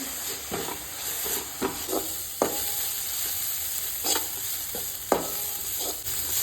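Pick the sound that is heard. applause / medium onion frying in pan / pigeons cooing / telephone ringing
medium onion frying in pan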